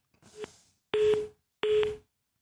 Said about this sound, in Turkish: Kervan Bey düştü arada